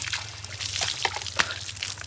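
Cold water from a hand pump poured over a person in a rural Philippine yard, a steady splashing trickle and spatter with a couple of sharper slaps, close by and without speech.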